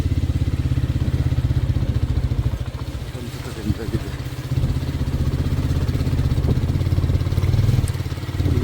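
A motorcycle rides slowly along a slippery, water-soaked road, its engine a loud, close, steady low-pitched thrum that dips briefly in the middle before returning.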